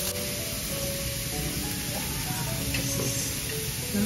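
A spoon working chicken bibimbap ingredients around a hot pan, giving a steady low sizzle with faint scraping and stirring noises, close up and continuous, with no talk.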